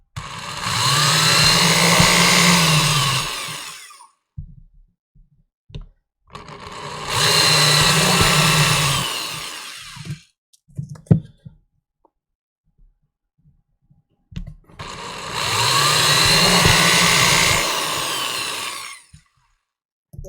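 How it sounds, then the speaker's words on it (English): A power drill bores through a paper template into a plastic enclosure in three long, loud, whining runs of about four seconds each, separated by quiet pauses with handling clicks. "I'm just going to drill right through my template."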